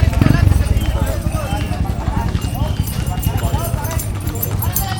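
Racehorses pound along the track at a close-fought horse race in Lucban, with a rapid clip-clop of hooves under loud, continuous voices and crowd noise.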